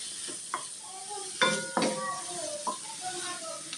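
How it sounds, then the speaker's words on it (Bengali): Noodles with chopped carrot being stirred in a pan, heard as intermittent clinks and scrapes of a utensil against the pan over a faint sizzle, with a voice speaking in the background. "দিয়ে এখন একটু ভালো করে নাড়াচাড়া করে নেব"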